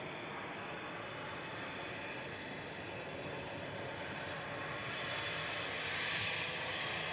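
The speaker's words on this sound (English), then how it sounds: "Ryanair 2148 to Krakow next" A Ryanair Boeing 737-800 leaving Manchester for Krakow rumbles at a distance, a soft, steady engine drone that builds gently louder in the last seconds, with no voices over it.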